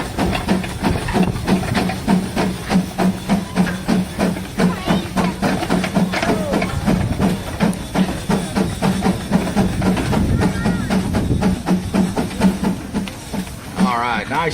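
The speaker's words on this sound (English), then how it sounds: "Steam traction engine. About to put on a display of the power of steam." A steam traction engine runs at a display, its fast rhythmic chuffing and hissing pulses continuing close by while a voice talks over it.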